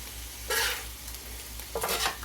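Meat and onions for an Amish country casserole being tossed and scraped together on a flat griddle, with a steady low sizzle and two brief bursts of spatula scraping.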